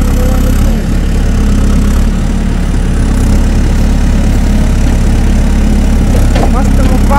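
A tractor engine runs steadily at low revs while the tractor sits stuck in soft, boggy mud on waste ground, a continuous loud rumble with a few faint sounds near the end.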